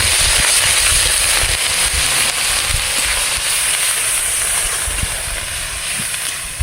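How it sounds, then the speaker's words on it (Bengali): Onion paste sizzling loudly and steadily as it hits hot oil, a broad continuous hiss over an outdoor wood-fired clay stove, with faint low crackles and no talking. "আমাদের তেলও গরম হয়ে গেছে, তার জন্য আমরা প্রথমে দিয়ে দিচ্ছি পেঁয়াজ বাটা"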